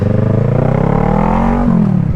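A 2012 Kawasaki ER6N motorcycle, a parallel-twin restricted for an A2 licence, idles loud and close with a steady low rumble that rises slightly in pitch toward the end.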